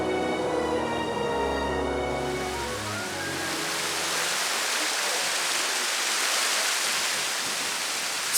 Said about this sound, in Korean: 화산 안반에 고여있던 온천수가 폭포처럼 흘러내리는데요